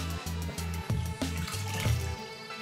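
Water runs and splashes in a bathroom sink as a face is rinsed during a facial care routine, with a steady close flow broken by repeated short pulses of splashing, no voices.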